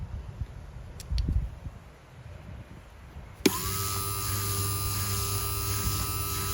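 An angle grinder cuts into the edge of a 1cm tile to shape it into a keystone. The grinder starts abruptly partway through with a sharp onset, then holds a loud, steady high-pitched whine until the end, after some quiet low rustling.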